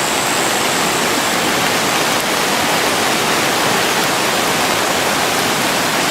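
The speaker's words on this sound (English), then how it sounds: "Yeah, well, Copper Creek, alright. That's a creek. It's like an ocean." Copper Creek in flood in the Daintree rainforest, Australia, a loud, unbroken roar of rushing water that fills the whole clip with no voices.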